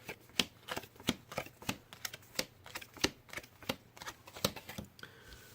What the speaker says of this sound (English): you're going to shuffle all of them together